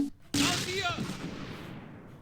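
A sharp burst of tank gunfire erupts in a World War II tank battle game with Panzer IVs, a loud blast followed by a rattling, fading echo, with a voice briefly heard.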